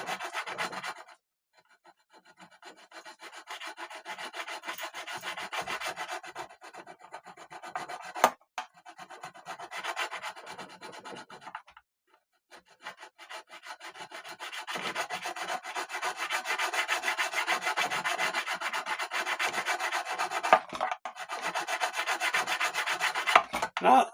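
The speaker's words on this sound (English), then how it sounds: "I can feel this grabbing that fret. So it's scraping something." A spot leveling tool scrapes back and forth across a guitar fret in repeated rasping strokes, close and fairly quiet, with short pauses between passes.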